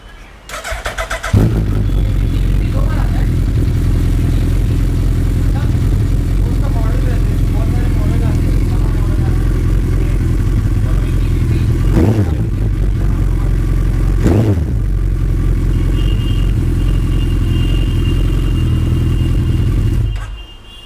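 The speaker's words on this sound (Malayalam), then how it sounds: "ഹയാബൂസയുടെ നിങ്ങൾക്ക് എക്സോസ്റ്റ് നോട്ട് കേൾപ്പിച്ച് തരാം." A 2014 Suzuki Hayabusa superbike starts and idles with a loud, steady exhaust rumble for about twenty seconds, broken by two brief throttle blips before it cuts off.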